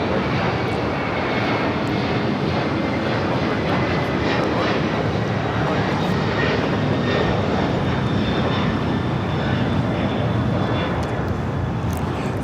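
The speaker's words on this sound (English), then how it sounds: "That's FedEx 1234 taking off to Memphis on a 767 named Rico" A FedEx Boeing 767 freighter takes off from LAX, bound for Memphis, with a sustained, powerful jet engine roar that stays loud and constant from start to finish, unaccompanied by voices.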